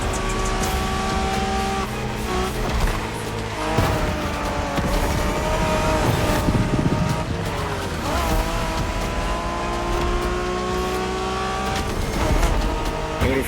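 Japanese-style street racing cars in The Crew Motorfest, engines revving and shifting, tires squealing through skids, cars roaring past close by with a steady, driving intensity.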